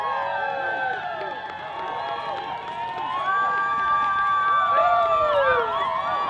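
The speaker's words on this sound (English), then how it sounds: "You can hear the crowd." Crowd cheering at the Kuskokwim 300 sled dog race finish, a continuous wash of voices and whoops at moderate distance, with voices calling out over the noise.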